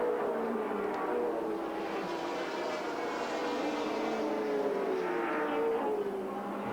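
Touring race cars at Sandown in 1983, including a Ford Falcon, roar past under braking, a steady distant engine drone with a falling pitch sweep as a car passes, no talk.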